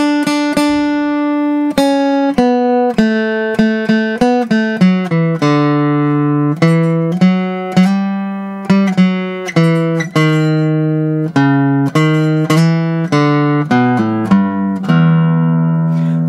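The last two lines of Greensleeves are picked note by note on guitar in a fiddle-tune style, with clean single notes following one another at a moderate pace, alone and close.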